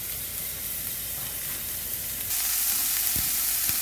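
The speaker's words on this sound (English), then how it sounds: "I'm gonna saute the onions in a little bit of oil" Onions sautéing in a little oil in a pan, a steady close sizzle that grows louder partway through, with a few soft stirring taps.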